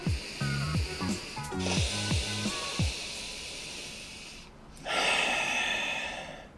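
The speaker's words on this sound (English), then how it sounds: "Let's give it a little smell." A few quick nasal sniffs at a glass of Skrewball peanut butter whiskey, close and fairly quiet, followed by a sharper exhale or rustle, with no talking.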